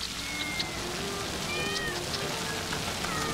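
A cat meows several times in short, close calls over a steady rushing background like rain, with no talking over it.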